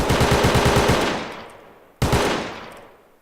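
Two bursts of rapid automatic gunfire spray in a video game, the first a long loud rattling stream fading into a decaying tail, the second a short burst that dies away, with no talk.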